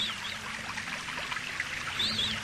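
River water flows steadily at a spot where children bathe, a continuous close babble and trickle with a faint bird-like chirp near the end.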